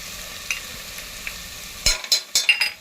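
Spices for pav bhaji sautéing in a pan, a soft background sizzle broken near the end by several sharp, loud scraping stirs in quick succession, heard up close.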